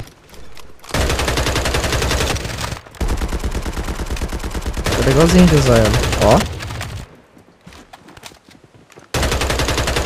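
An AK assault rifle fires in a video game in long rapid automatic bursts separated by short silences, loud and close, with someone talking between and over the shots.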